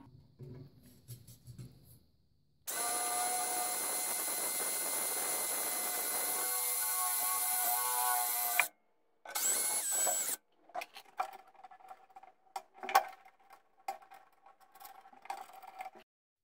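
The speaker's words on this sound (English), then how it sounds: "I removed the running board bolts so I could drill some mounting holes in the side." A power drill whines steadily for several seconds, briefly stops, then runs again, drilling mounting holes in a tractor's metal side panel, followed by scattered clinks and taps of metal.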